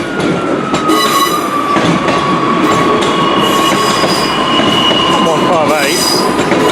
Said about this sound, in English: Here comes East Midlands Railway operating a service to Liverpool Lime Street